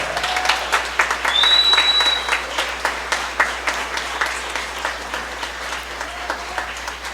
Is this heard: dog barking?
no